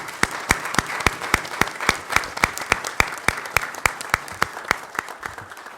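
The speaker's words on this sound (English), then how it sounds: "let's give our children a round of applause." An audience at a school board of education meeting applauds the children, with strong, evenly spaced claps standing out over a steady bed of many hands, continuing loudly for nearly six seconds.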